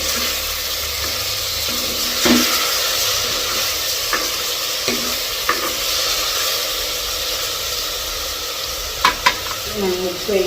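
Tomatoes sautéing in a pan for a Jaffna-style curry with dried anchovies keep up a continuous loud sizzle. Occasional spoon scrapes and clatters come through, and a few louder knocks sound near the end.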